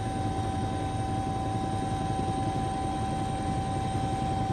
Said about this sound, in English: we'll also have to guard against the 50 mile-an-hour blades of the helicopter